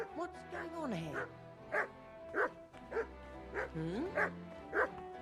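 A dog barks repeatedly in the video game Kingdom Come Deliverance 2, about eight yips and whining barks in an uneven series, close by, with a brief murmur from a person.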